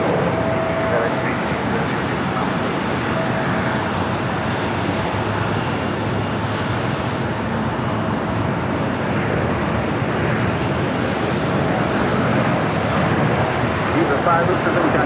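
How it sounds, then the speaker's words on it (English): Viva Aerobus Airbus A320neo airliner taking off at Los Angeles International Airport, a broad continuous jet roar heard from a distance, steady and loud throughout, mixed with wind noise. "A320neo taking off."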